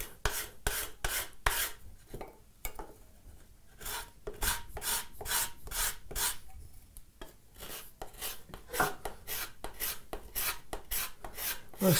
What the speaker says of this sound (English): So now we can scrape all these edges.